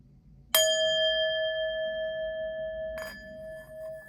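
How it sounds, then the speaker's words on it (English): A bell is struck once with a bright ring that sustains and slowly decays, then is struck again a few seconds later, heard alone in a quiet room. "We're going to ring the bell and get right into it."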